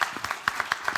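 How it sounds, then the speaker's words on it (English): Scattered hand claps from a conference audience applauding a panel, a brief thin patter of individual claps. "let's give a round of applause for the panel"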